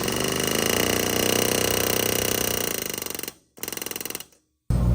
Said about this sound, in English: so I'm using a rivet gun